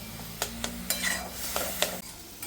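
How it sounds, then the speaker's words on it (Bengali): Leafy greens sizzle in a pan with garlic and poppy seeds while a utensil stirs and scrapes in short, sharp strokes, close and moderately loud, with no talking. "এবার আমি শাকটা অ্যাড করে দিলাম। আর এটা অ্যাড করে আমি একটু ভালো করে ভেজে নেব।"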